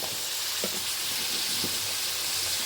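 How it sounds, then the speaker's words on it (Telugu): Ingredients frying in hot oil until golden brown give a steady, dense sizzle that runs without a break, with a few soft stirring knocks and no talking. "దీన్ని కూడా గోల్డెన్ బ్రౌన్ కలర్ వచ్చేదాకా కొంచెంసేపు వేయించుకోవాలి ఫ్రెండ్స్."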